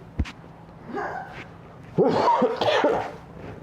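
A sharp cough bursts out, then a stretch of loud, raspy coughing and throat sounds from a person close to the microphone.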